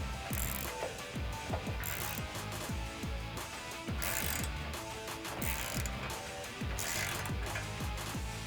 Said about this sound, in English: tighten those down with an 18mm socket